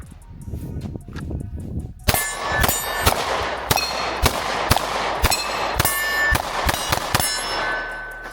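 Rapid string of sharp, loud 9mm pistol shots from a compact handgun, about a dozen cracks fired in quick succession with ringing tails; quieter low rumble and handling before the firing starts.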